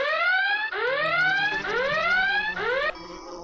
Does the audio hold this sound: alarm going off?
yes